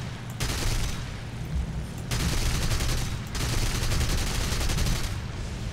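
Aircraft guns strafing ground targets in the War Thunder combat game, heard as three long, loud, rattling bursts of rapid automatic fire separated by brief pauses, with no talk over them.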